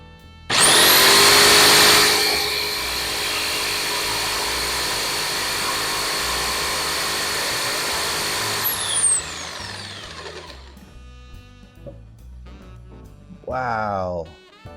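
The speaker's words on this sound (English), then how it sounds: "I think we can go ahead and use our jigsaw" A jigsaw cutting out surfboard coffee table pieces, a loud steady buzzing cut running for several seconds, then stopping, followed by quieter handling sounds and a brief voice.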